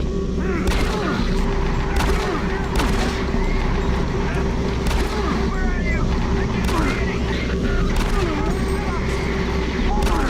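Gunfire in the video game Doom 3, loud repeated shot bursts over a dense, constant game soundscape of rumbling and effects, with no gaps.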